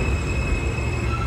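A subway train pulls out of a station, a steady broadband rumble with low-end roar and a faint high whine, continuous and fairly loud with no voices.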